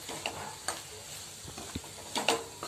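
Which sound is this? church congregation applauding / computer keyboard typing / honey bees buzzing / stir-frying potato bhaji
stir-frying potato bhaji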